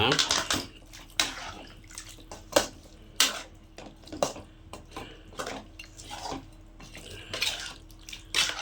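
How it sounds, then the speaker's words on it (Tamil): Water is poured into a pan of chicken masala gravy and stirred, with repeated scraping clinks of a spoon against the pan and wet sloshing, recurring every second or so. "ஒரு 1/2 டம்ளர் தண்ணி ஊற்றிக்கிங்க. ஊற்றி நல்லா கிளறணும்."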